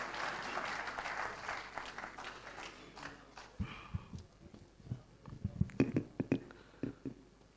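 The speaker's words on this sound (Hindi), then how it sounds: "आप तालियों से उनका इस्तक़बाल करें" A mushaira audience in Patiyala, Punjab, applauds to welcome a poet, starting as dense clapping that thins into uneven, scattered claps with a few louder bursts near the end, and no talking over it.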